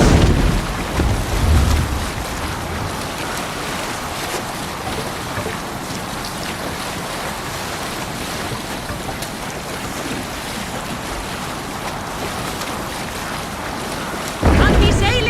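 A Viking longship sails across open ocean waves in a video game. Wind and rushing water roar steadily throughout, with louder surges at the start and again at the very end.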